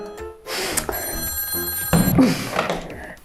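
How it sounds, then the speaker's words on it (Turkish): A toy telephone in a children's shopping and cooking play game rings with a bright electronic bell tone, loud and close, over clattering handling noises. "Yine telefon çalıyor ya."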